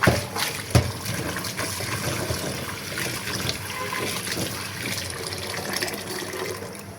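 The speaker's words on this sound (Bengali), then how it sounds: "তার আগে সাজনেগুলো ধুয়ে নিতে হবে।" Tap water runs steadily while drumsticks (sajna) are rinsed in a home kitchen, a continuous splashing hiss with a brief clatter near the start and no talk.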